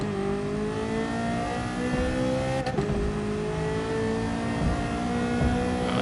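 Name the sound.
race car engine hitting rev limiter in racing video game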